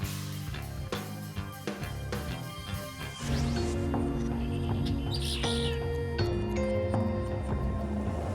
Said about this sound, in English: We got birds roosted back here.